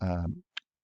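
A single sharp computer mouse click follows a brief stretch of speech, then quiet.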